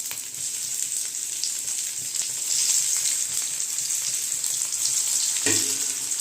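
Bitter gourd fries in hot white oil over a low flame, a dense, even sizzle close by with a brief stirring clatter near the end.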